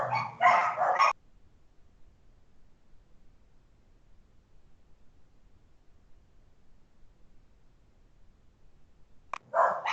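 Dogs bark in a short loud burst at the start and again at the very end, with near silence in between.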